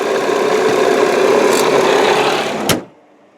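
A 2001 Mazda Millenia S engine idling steadily and loud up close, then a brief click as it is switched off and the hum stops, leaving near silence.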